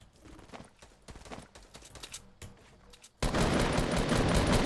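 Scattered Fortnite gunshots crack in quick clusters, then give way to a loud, sustained burst of dense noise for the final seconds.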